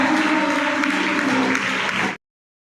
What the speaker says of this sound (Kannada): ಜೋರಾದ ಚಪ್ಪಾಳೆ ಆ ವಿದ್ಯಾರ್ಥಿಗೆ ಥರ್ಡ್ ಪ್ರೈಸ್ ಬಂದಿದೆ.